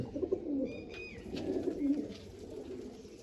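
Pigeons coo in a coop, low throaty rolling calls repeating close by over a soft background, with a few faint higher chirps mixed in.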